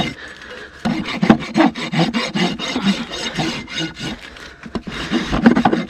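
A hoof rasp scraping across a mustang's hoof during trimming, repeated rough grinding strokes in an uneven rhythm, close and fairly loud.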